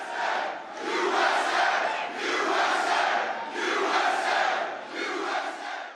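A large crowd of Trump supporters at a sneaker expo in Philadelphia cheers and chants loudly in rhythmic surging waves, the shouting swelling and dipping roughly every second or so with no single voice standing out.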